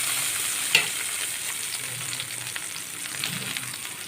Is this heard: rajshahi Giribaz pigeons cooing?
no